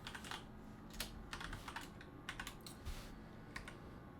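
Computer keyboard typing code at a steady, quick pace, a close clicking run of keystrokes over faint room noise, no speech.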